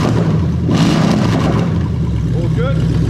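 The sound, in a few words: Lexus 1UZ-FE VVT-i V8 engine revving in drive-by-wire test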